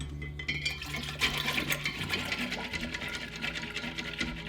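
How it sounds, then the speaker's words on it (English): Steady close whisking and sloshing as milk is stirred in a container to break up chunks while making kefir or yogurt, a continuous rapid liquid churning throughout, no speech. "Let's give it a stir, whisk it up, make sure it gets nice and incorporated in here."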